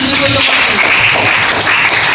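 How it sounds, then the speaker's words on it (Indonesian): Brief loud applause from a class, many hands clapping close by in a dense, even burst with some murmuring voices underneath. "tepuk tangan dulu"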